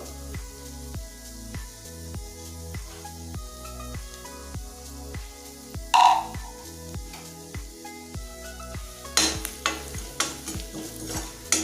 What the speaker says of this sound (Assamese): মছলাখিনি মই ভালকৈ ভাজি ল'ম।